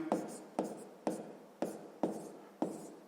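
A pen scratches across paper in about six short, evenly spaced strokes, close and fairly quiet, as sixth-grade math work is written out.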